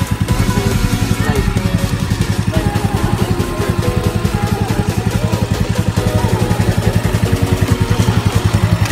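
An ATV engine idles at a garden campsite with a loud, steady, fast mechanical throb that holds an even rhythm throughout, close to the microphone.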